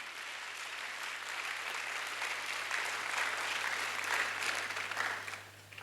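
A church congregation applauding, a dense wash of many hands clapping that swells and holds, heard from a distance in a reverberant hall over a low steady hum, then fading near the end.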